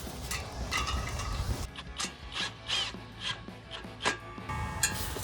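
A clamp on a Carven angled-cut rolled-end exhaust tip being tightened on a 2015-2023 V8 HEMI Dodge Charger gives a quick run of ratchet clicks and scraping, then evenly spaced metallic ratcheting strokes, close and moderately loud.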